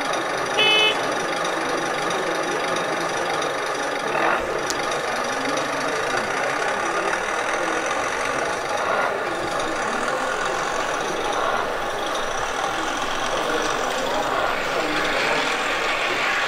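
MO-Miniatur 1:32 scale Klv 12 model rail vehicle with lift-and-turn gear driving, a steady soft mechanical whir and hum with occasional small clicks, close and continuous, with no talk.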